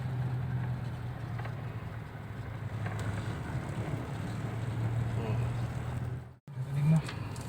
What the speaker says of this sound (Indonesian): Gigi 3 agak nanjak jalanan nih.